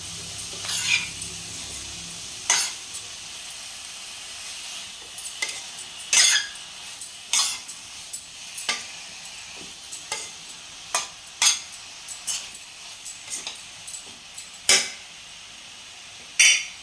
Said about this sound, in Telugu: ఇప్పుడు వీటిని 4 పక్కలా కలిసేటట్టుగా కలబెట్టుకొని మూత పెట్టండి.